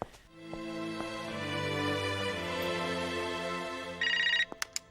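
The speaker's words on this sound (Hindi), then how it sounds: "वो पूजा घर पे फोन ट्राई कर रही होगी" A household telephone gives a short burst of electronic trilling rings near the end, following a stretch of sustained tonal background music.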